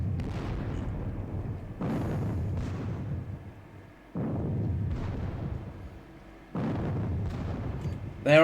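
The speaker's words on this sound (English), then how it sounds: "Their artillery is definitely at it again." Repeated booms of artillery fire in a Battle of Friedland war video game, several broad rumbling blasts spaced a second or two apart at steady loudness, with a sharper burst at the end.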